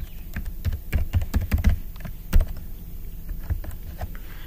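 A password being typed on a computer keyboard, with a run of close, uneven key clicks and a few heavier taps, including one louder keystroke partway through, and no talk.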